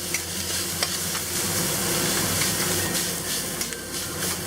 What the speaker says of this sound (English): stir fry this for about 30 seconds to break up the bean paste